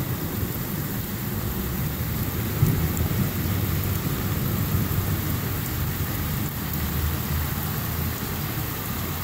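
Steady heavy rain pours outdoors at a house in Los Banos, California during a close thunderstorm, a dense continuous wash with low rumbling thunder underneath and no talking.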